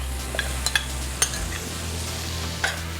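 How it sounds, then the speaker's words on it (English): Vegetables and mushrooms are stirred in an oiled pan, a low steady sizzle running under a few light clinks and scrapes of a utensil against the pan. "We're going to stir this around."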